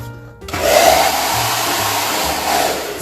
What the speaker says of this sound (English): So simple solution is get your blow dryer out, and then work on it.